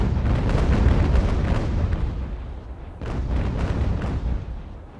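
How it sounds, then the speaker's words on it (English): Rolling cannon fire from sailing warships in Ultimate Admiral: Age of Sail comes as a dense, continuous barrage of deep booms. It swells, eases briefly, then surges again with a fresh volley, and there is almost no talk. "Full on cannon."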